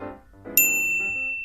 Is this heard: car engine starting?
no